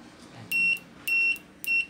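Short electronic beeps from an AWEI Y668 Bluetooth speaker opened up for repair, three evenly spaced tones about half a second apart, clear and close against a quiet room.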